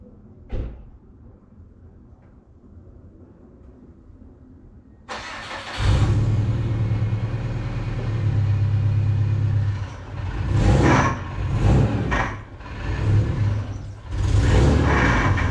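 Subaru fitted with a swapped Honda K24 engine being pulled in. After several quiet seconds, the engine sounds close by and runs with a deep rumble and a few surging revs.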